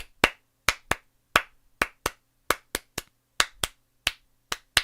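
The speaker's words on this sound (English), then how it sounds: "There's like, I think 8 claps and 4 rests." A group clapping in unison through a repeating 12-beat pattern of eight claps and four rests: sharp, loud, close hand claps in an uneven groupings-and-gaps rhythm, about fifteen claps with no voices.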